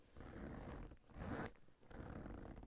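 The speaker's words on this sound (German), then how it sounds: "du hast einen recht leise und einfach rutschenden Reißverschluss aus Metall" A metal zipper on the main compartment of a Piquadro Modus leather laptop backpack slides smoothly and quietly in about three close strokes, with brief pauses between pulls.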